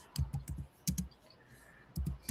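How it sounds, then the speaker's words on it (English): Someone types on a computer keyboard nearby, soft clustered key clicks in short bursts separated by pauses, fairly quiet against a calm room background. "So Someone's typing away."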